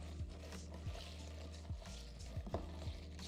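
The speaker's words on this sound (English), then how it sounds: "time to give this a stir" A spoon stirs a ginger beer cocktail in a glass with strawberries, giving a faint, steady swirl broken by soft, regular clinks against the glass.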